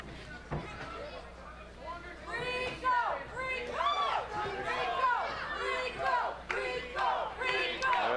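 Boxing arena crowd in a fighter's hometown roars steadily through a championship bout, a loud sustained wall of cheers and shouts with overlapping voices and an announcer talking over it.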